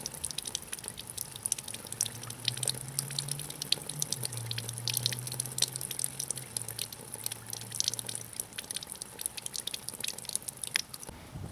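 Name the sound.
cooling system flush bubbling out of a 2000-2007 Ford Taurus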